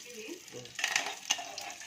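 Tempering for coconut chutney in a home kitchen, dried red chilies, mustard seeds and curry leaves hitting hot oil, giving short crackling sizzles and a brief pan stir, fairly faint and close.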